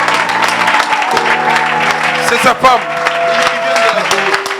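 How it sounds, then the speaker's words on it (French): A church congregation applauds and cheers loudly, clapping mixed with shouts of acclamation while a voice speaks over the noise and a sustained musical tone hums beneath. "Donne une grande acclamation."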